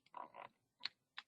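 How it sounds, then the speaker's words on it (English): Close, quiet clicking of a computer keyboard in an office setting: a rapid cluster of keystrokes followed by two separate single taps, with no voices. "It's just my typing"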